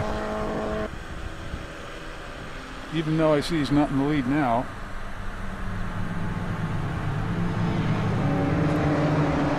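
Vintage race cars circle a track at a vintage racing festival, including a 1960 Lola Mark I, with a steady distant engine drone and one car's rising and falling pitch sweeping past mid-clip, while a commentator talks throughout.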